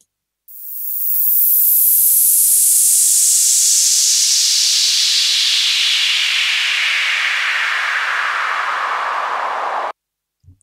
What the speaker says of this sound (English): it just gives me that head start when I want a white noise of some sort